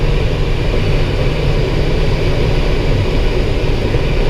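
A Cessna L-19 Bird Dog tow plane's engine drones loud and unbroken, heard from inside a Schleicher ASK21 sailplane cockpit, a dense, steady roar with no voices.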